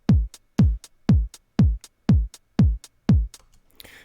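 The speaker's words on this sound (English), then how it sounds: "So we have a drum beat here to begin with," A simple 120 BPM disco drum beat programmed in Ableton plays alone, with seven steady, punchy kick-driven hits and crisp ticks between them in an even four-on-the-floor rhythm.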